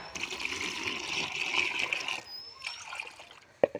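Fermented rice water is poured from a cup into a homemade vegetable-waste compost mixture, a steady trickling splash for about two seconds, then a brief dribble and a sharp knock at the end.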